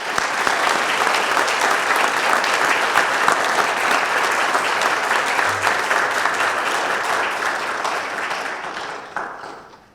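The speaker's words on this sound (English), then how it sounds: "let's give all of them one more round of applause" A large audience at a police swearing-in ceremony gives the academy graduates a loud, sustained round of applause, dense clapping holding steady before tapering off at the end.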